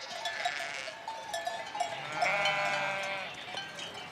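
A flock of about 600 sheep and goats being led up to mountain pastures, with overlapping bleats and the clank of cowbells, fairly close and with no voices over them.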